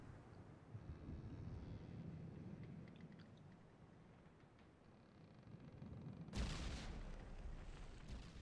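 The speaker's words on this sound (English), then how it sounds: "There's the next wave of torpedoes." Torpedo explosions strike the SS France ocean liner in Minecraft: a low, rumbling boom of distant blasts, then a sudden sharp loud burst near the end, with no voices.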